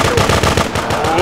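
Rapid, continuous machine gun fire from the video game GTA2, a loud, dense rattle of shots throughout the short burst.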